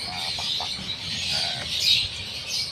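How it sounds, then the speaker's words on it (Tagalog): Early-morning birdsong, a busy mix of chirps and tweets over a constant high-pitched twittering, with a few brief closer calls standing out from the chorus. "ganito yung mga huni ng mga ibon"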